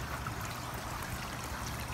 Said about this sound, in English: There goes the siphon. So that water should be draining now.